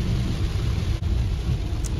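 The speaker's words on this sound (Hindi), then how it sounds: "और अब यहाँ से शुरू हो गई बहुत ही तेज़ बारिश जो बहुत ज़्यादा दूर तक चली थी।" Steady, dense heavy rain heard from inside a car on a drive from Himachal toward Chandigarh, a constant low roar with no distinct thunderclap standing out.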